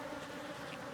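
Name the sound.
honey bees buzzing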